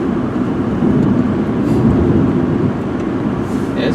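A 2000 Saturn SC1 three-door hatchback cruising straight down the road, heard from inside as a steady, fairly loud rumble of engine, tires and road noise with no talking.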